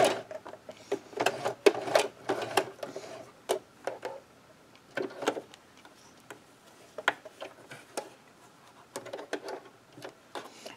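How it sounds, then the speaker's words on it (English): A sewing machine stitches the strap of a fabric scrub cap in short irregular runs of rapid ticking, close and fairly quiet, with pauses between bursts. "I'm going to start off with stitching the strap"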